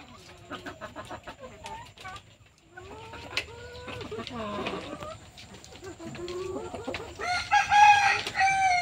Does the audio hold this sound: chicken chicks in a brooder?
yes